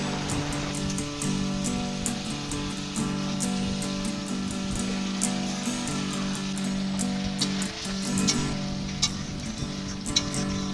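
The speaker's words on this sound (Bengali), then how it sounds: "মাছগুলো দেওয়ার পরে জলটাকে ভালো করে ফুটিয়ে নেওয়া হচ্ছে" Magur fish curry bubbling and simmering in a pot after the fried fish pieces go into the boiling water, a steady soft sizzling crackle with faint bubbling, close and alone without talk.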